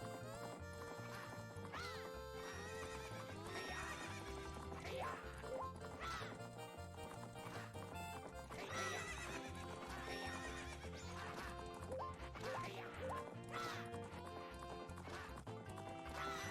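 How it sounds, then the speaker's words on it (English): Horse neighing and galloping hooves from the racing horse in Zelda: Majora's Mask, with whinnies and clip-clop rhythm set against loud, dense game music throughout. "Stop blocking us with your big-ass horse!"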